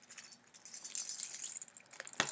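Keys jingle and clink softly near at hand in a sustained shaking rattle, ending with a brief knock, with no voice present.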